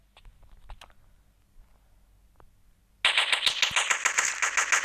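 Rapid automatic gunfire in the video game Kuboom, starting suddenly after a quieter stretch of scattered faint clicks and then blasting loud and continuous to the end.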